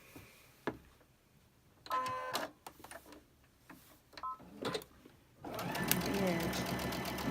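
Sewing machine stitching quilt fabric in bursts, short rapid mechanical runs separated by pauses, then a longer steady run at the end, close and clear with a voice talking between stitches.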